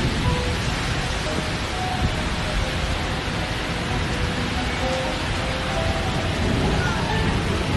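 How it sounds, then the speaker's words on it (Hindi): Heavy rain pours steadily along the Madina Munawara highway in Medina, a dense, continuous wash of noise that stays loud and even throughout, with no voices heard. "बहुत ज़बरदस्त बारिश हुई है"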